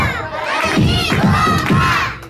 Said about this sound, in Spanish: Todos los invitados te dan una fuerte porra a la cuenta de tres